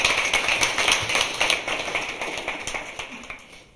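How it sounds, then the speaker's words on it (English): Audience applause for a speaker at an evening talk, a burst of quick close claps from a modest crowd that starts strong and gradually tapers off. "Let's get a round of applause for Ben."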